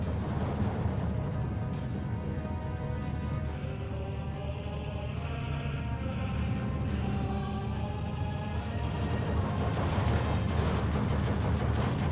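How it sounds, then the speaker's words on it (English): Mortar and artillery fire rumbles through a Steel Division battle as Soviet divisions push forward, a dense, continuous low roar with scattered sharp thumps and distant booms. "These two mortars are doing a really good job for him"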